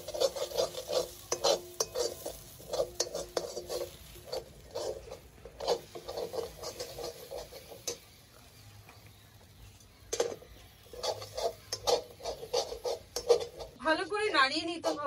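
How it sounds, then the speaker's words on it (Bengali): A green pea mixture for kochuri filling is stirred and scraped in a wok, giving repeated rasping strokes in a steady rhythm, close and moderately loud, with a short quieter pause partway through. "ভালো করে নাড়িয়ে নিতে হবে"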